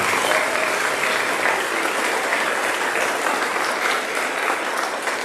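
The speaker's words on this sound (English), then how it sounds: "So big round of applause for 5th grade band parents." Audience at a 5th/6th grade spring band concert applauding the 5th grade band parents, loud sustained clapping from a full room, dense and unbroken for several seconds.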